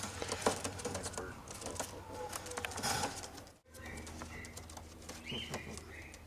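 A Birmingham Roller pigeon coos softly close by over a busy loft background with faint clattering and a murmur of human voices.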